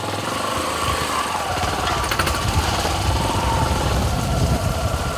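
A motorcycle engine labors hard over rough rural terrain, giving a loud, continuous rattling drone with steady vibration and no pauses. No one speaks.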